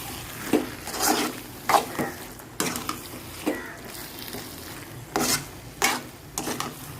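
Avial, a mixed vegetable curry, being stirred with yogurt in a pot: repeated scraping, rasping strokes of a spoon against the pan, close and fairly loud, in an uneven rhythm over a faint low background.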